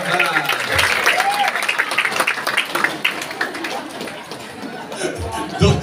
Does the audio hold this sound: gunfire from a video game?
no